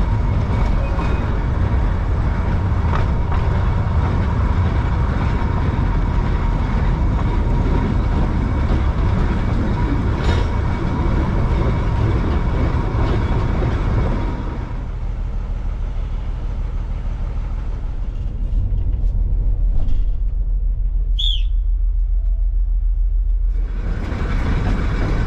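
A Darjeeling Himalayan Railway train reverses at a switchback on the mountain line, a loud, close rumbling engine drone with rolling noise that drops away partway through to a quieter idle, followed by a short high squeal.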